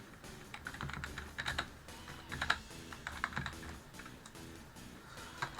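Computer keyboard typing during a Pokémon shiny hunt, bursts of quick key clicks in uneven clusters, close and fairly quiet, with no speech.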